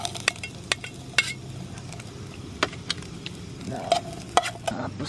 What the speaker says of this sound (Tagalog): next luto tayo ng ulam lam, mantika, tapos bawang kasi may bawang